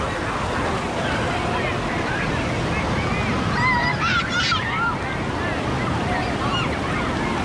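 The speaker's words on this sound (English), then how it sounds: "there's the wave" Waves roll through the Mt Olympus wave pool at Wisconsin Dells in a steady, loud wash of water, with distant shouts and voices mixed into the churning surf.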